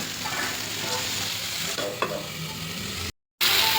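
A spoon stirs ivy gourd (kovaikkai) gravy in a pan, with steady sizzling and scraping throughout and one brief dropout near the end; no one talks.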